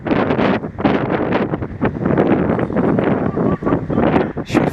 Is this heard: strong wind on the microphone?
yes